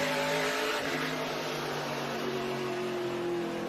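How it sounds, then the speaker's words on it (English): SRX stock-style race cars running two by two in a pack at Five Flags Speedway, a steady loud engine roar with a rising drone as the field passes close. "Castroneves inside, Kanaan outside, Pollard and Newman right behind them."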